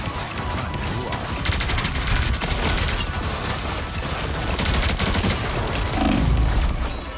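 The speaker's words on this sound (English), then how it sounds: "Heavy weapons" Heavy weapons fire in the shooter game Marvel Rivals keeps up a dense, continuous rattle of rapid shots and blasts at close range, with thuds and booms toward the end and no pause throughout.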